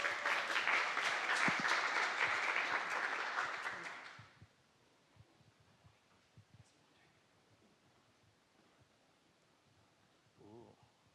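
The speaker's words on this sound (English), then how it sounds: "Applause, please." An audience claps for volunteers at a talk on machine-learning games, with a dense, fairly loud burst of applause for about four seconds that stops abruptly, followed by quiet room noise and faint murmurs.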